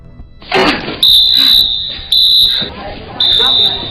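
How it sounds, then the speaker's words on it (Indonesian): A school fire alarm blares in loud, shrill electronic bursts, each about half a second to a second long, with short gaps between them. Commotion and voices sit underneath. "Ia pun memilih untuk menyalakan alarm kebakaran agar semua orang keluar dari kelasnya masing-masing."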